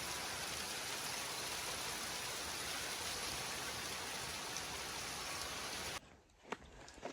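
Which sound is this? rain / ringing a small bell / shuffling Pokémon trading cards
rain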